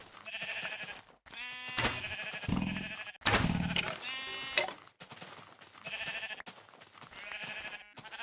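Repeated bleating from Minecraft sheep, several close, clear calls with short gaps between them, some overlapping into a small cluster of bleats.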